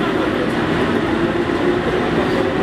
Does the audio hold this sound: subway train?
yes